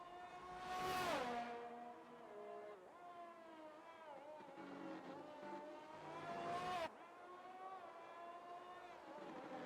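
Race cars in an Emilia Romagna Grand Prix racing game whine through a chicane, their engine pitch rising and falling with downshifts and another car sweeping past, faint under commentary.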